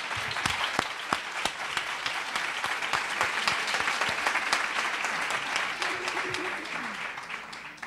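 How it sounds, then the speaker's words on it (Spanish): Audience applause in a lecture hall, a dense sustained patter of many hands clapping at close range, with a few louder individual claps standing out, steady throughout and only slightly thinning at the end. "Bien, aplaudiríamos a todos."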